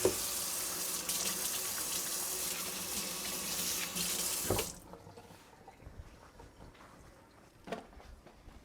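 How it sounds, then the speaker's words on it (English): Hands being washed under a kitchen tap, a close steady rush of running water with splashing that stops partway, leaving faint clinks and room sounds. "let me just wash them real quick"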